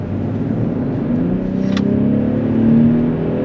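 A BMW X5 45e plug-in hybrid SUV accelerates as a smooth, steady engine and drivetrain drone that gently rises in pitch, heard from inside the cabin with a brief faint tick midway and no talk.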